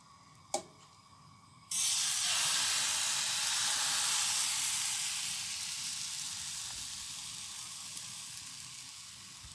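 Crêpe batter hits a hot buttered frying pan after a single soft tap, setting off a loud, broad, hissing sizzle that slowly fades while staying steady, close and without talk.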